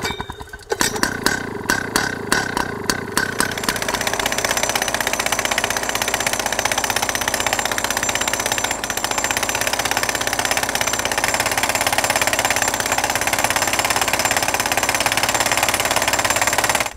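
A motorized hammer drives a ground anchor (tent peg style) into the earth, starting with a few rapid clattering blows, then settling into a loud, continuous engine-driven pounding roar.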